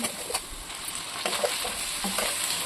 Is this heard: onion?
yes